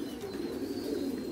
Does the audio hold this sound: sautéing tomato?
no